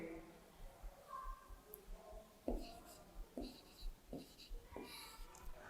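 Faint scratchy strokes of writing on a board come in short bursts with pauses between them, during a Class 3 maths subtraction lesson, and soft speech is heard quietly around them.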